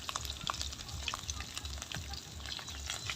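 Ground spices, coriander, turmeric and chili powder, sizzle and fry in hot oil while being stirred for a pigeon curry, a steady close crackle with scraping stirs throughout.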